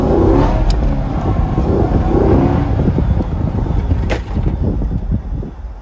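A C7 Corvette's V8 roars loudly as it revs and accelerates on the road, heard close from inside with a deep rumbling drone and brief sharp pops, easing off near the end.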